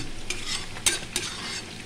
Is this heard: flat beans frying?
yes